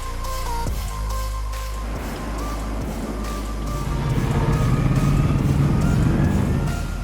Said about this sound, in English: That moment when the first log drops in and the Bruck's shredder goes full throttle